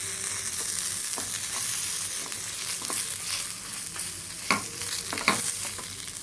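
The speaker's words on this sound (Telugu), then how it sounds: "ఇవన్నీ ఇట్లా ఎర్రగా వేసుకోవాలి. ఇప్పుడు కొంచెం చింతపండు వేస్తున్నా." Lentils, dried red chillies and tamarind fry in a pan at home for beerakaya pachadi, a continuous close sizzle with occasional scraping stirs and a couple of sharper knocks near the end.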